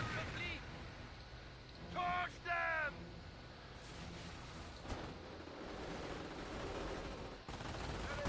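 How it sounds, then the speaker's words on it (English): A Company of Heroes battle in which phosphorus grenades and gunfire go off. Scattered bursts of shooting and rumbling blasts sit under brief shouted voices from soldiers. "Everybody's throwing phosphorus grenades."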